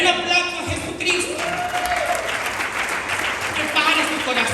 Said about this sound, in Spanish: En un aplauso a Jesucristo.